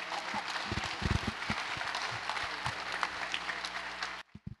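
Sustained applause from a festival audience at a Twin Peaks fan Q&A, dense and steady with scattered louder claps, then cutting off sharply near the end.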